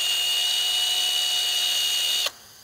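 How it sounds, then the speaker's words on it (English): A power drill fitted with a wire wheel whines steadily and loudly while cleaning a brake guide pin on a BMW F15 X5 or F16 X6, then cuts off abruptly near the end. "I'm just gonna take the same wire wheel on the drill and just clean the guide pin."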